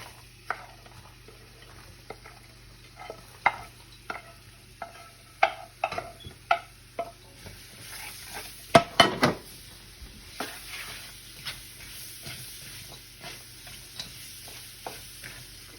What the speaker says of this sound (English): as you start to simmer, you can see it simmering, these spices, you cook the spices